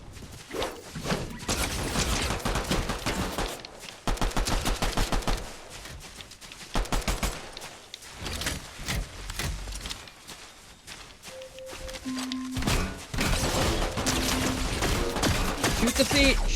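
Video game gunfire crackles in rapid bursts and sustained automatic fire, loud and dense, broken by short pauses with mechanical clanks and footstep-like thuds between volleys.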